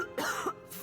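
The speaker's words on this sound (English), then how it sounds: "Myru coughs, spitting up blood." A wounded woman in Pillars of Eternity 2 gives a few short, rough coughs, close up and fairly soft, with brief gaps between the bursts.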